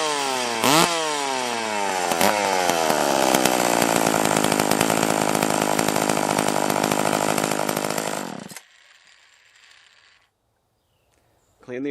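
A clone chainsaw, prepped for tree work after cleaning and choking, starts with a sharp pull and revs up, then runs loudly and steadily close by for about eight seconds before cutting off, leaving faint background noise.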